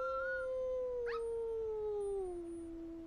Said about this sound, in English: In the wild, three-week-old wolf pups can be heard howling right alongside their parents.